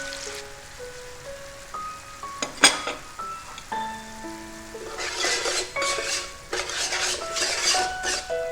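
Dark and light soy sauce with coconut sugar are stirred in a pan, with clinking utensil taps and scraping against the metal over a soft bubbling sizzle that grows busier toward the end.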